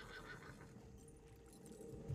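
A frightened horse in a video game whinnies amid a low, steady rumble, with faint hoof clip-clop; the cry is moderately loud and stays without pause through the short stretch.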